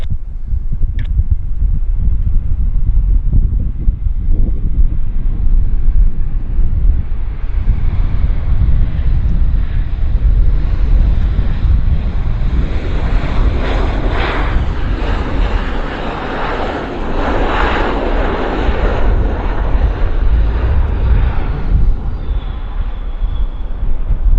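A WestJet airliner takes off from Vancouver airport, a loud sustained jet engine roar that swells and builds with wind buffeting, heard at close to moderate distance with no talk.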